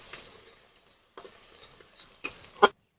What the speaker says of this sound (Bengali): রসুনটা একটু ভালো করে ভেজে নেবো কাঁচা গন্ধটা চলে যাওয়ার জন্য।